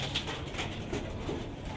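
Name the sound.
Chinese Kamagar male pigeon cooing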